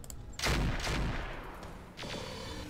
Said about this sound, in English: Just gonna shoot this guy.